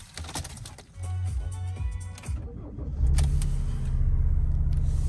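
A Ford Transit Custom 290 Limited van with a 2.0 TDCi 130 BHP diesel engine and automatic gearbox starts up, a short crank followed by a steady low idle that settles close by.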